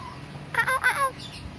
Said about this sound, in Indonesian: Jenis burung unggas ya.